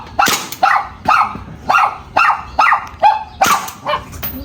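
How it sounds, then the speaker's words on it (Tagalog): A dog barks loudly and repeatedly up close, about eight sharp barks in quick succession with a few higher yips mixed in, outdoors near a house. "Ang aso."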